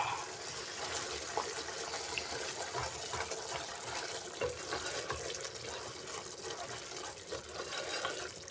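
Water poured into a pan of methi matar malai gravy, a steady broadband splashing and gushing stream that runs continuously and fairly close for the whole stretch, with no talking over it.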